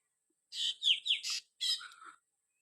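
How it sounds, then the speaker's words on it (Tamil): A drongo (rettaival kuruvi) calls in a quick string of bright, chattering chirps and whistles, several short notes in two bursts, close and clear against quiet surroundings. "மக்களே பாருங்கள் ரெட்டைவால் குருவி"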